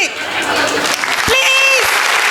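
Applause from a gathered crowd at a school batch reunion as a ceremonial lamp is lit, a steady dense clatter of clapping running throughout, with a brief whistle-like tone cutting in midway.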